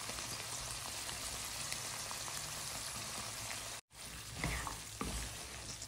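Tomatoes and coriander leaves fry in a pan with chickpeas, giving a steady close sizzle with soft stirring scrapes and a brief dropout near the end.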